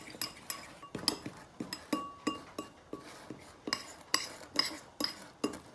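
A fork works softened butter and flour together in a dish, making a quick run of light metallic clinks and scrapes at a steady rhythm, close and fairly quiet, with no talking.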